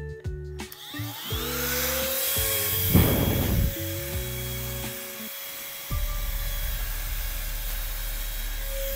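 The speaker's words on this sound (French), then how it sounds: "Donc là, on a le souffleur." An electric air blower bought from AliExpress running: a loud, whining motor hum with shifting pitch as it revs up and down, then settling into a steady, buzzing drone.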